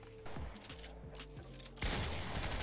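SMG gunfire in Fortnite, a quick run of rapid shots with some mechanical clatter, then a louder dense burst near the end, close and fairly loud.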